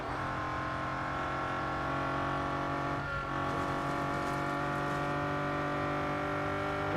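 Devo race car in Real Racing 3 holding a steady high engine drone at speed, loud and continuous throughout, a slight dip and shift in pitch midway, with no talk.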